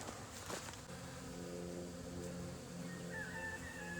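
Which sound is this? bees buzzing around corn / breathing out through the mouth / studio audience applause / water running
bees buzzing around corn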